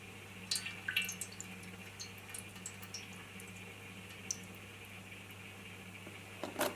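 Excess water drains from eustoma seed containers in faint, scattered drips and small trickles, quiet and close, with brief louder splashes near the start and end.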